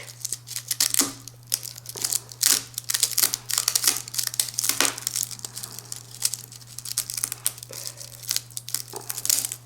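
A rattlesnake tail is ripped in half by hand, a close series of dry crackling, tearing and crinkling bursts over a steady low hum.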